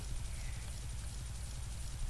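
A helicopter in the Roblox video game, a steady, fairly quiet rotor thrum with a low pulsing beat that continues unbroken, with no voices over it.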